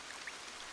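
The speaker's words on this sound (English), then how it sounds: "It suddenly started raining." Rain begins to fall, giving a brief, steady hiss of drops pattering on a surface, soft and even throughout.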